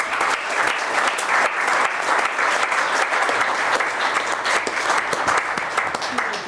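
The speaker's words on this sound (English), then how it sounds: "Mr. Agajanian, big round of applause, please." Sustained, dense applause from the audience at a Glendale city council meeting, loud and steady throughout with many hands clapping at once, filling the room.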